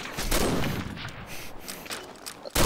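Rapid gunfire in an online shooter match, with dense overlapping shots that form a continuous fusillade, followed by a sharp louder burst at the end.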